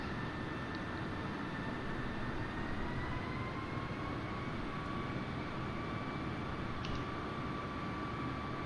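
Steady broadband engine and wind roar of an airplane flying through a hurricane storm in Microsoft Flight Simulator, a continuous unbroken drone with faint tonal whines riding on top and no talking.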